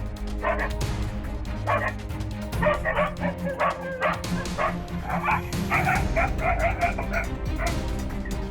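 A German shepherd barks repeatedly while chasing a fox away from a chicken coop, with loud, fairly close barks and yips in irregular bursts over a low rumbling background.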